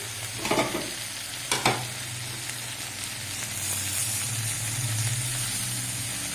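Chopped spring onions sizzle steadily in a hot pan, with a couple of sharp scraping stirs early on and a continuous frying hiss throughout; no one speaks.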